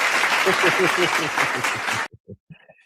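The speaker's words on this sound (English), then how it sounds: "Make a clap for you" Audience applause fills the first two seconds, a dense steady clapping under a speaking voice, then cuts off abruptly, followed by a few isolated sounds.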